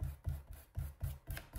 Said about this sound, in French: Là, j'enlève des traces de colle.